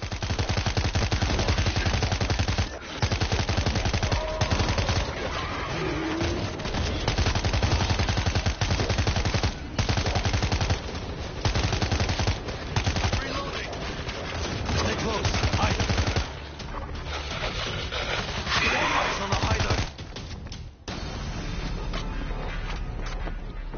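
Auto turrets in World War Z pour out heavy, continuous automatic gunfire in dense overlapping bursts, loud and close, mixed with a busy game soundscape and brief gaps.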